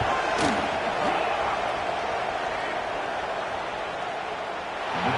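Broad, steady stadium crowd roar in a football video game on PS5 as a field goal is lined up, loud and continuous with no clear voices on top.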